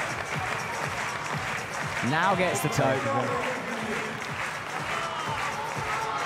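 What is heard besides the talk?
crowd cheering and applauding a climber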